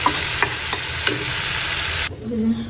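Dried red chillies frying in a hot pan with a steady broadband sizzle and a few light stirring knocks, the sizzle cutting off abruptly near the end to leave a quiet low hum.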